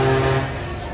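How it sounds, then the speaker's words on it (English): The Disneyland monorail sounds its deep, truck-like horn in one steady, loud blast that fades away within about a second. "I love hearing the monorail sound."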